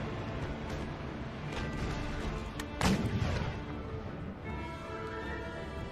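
Ship cannons fire chain shot at an enemy vessel's masts in Empire: Total War, a steady barrage of distant booming volleys under battle noise, with a sharper, louder crash near the middle.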